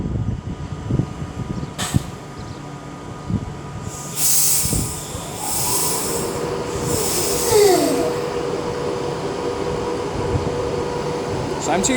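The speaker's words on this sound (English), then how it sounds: "39154 is now getting ready to depart with the 1747 Avanti West Coast service to Glasgow" An Avanti West Coast train pulls out of Stafford station on the West Coast Main Line bound for Glasgow Central, a low rumbling rolling sound with wheels squealing in rising and falling tones, steady and fairly close amid station ambience.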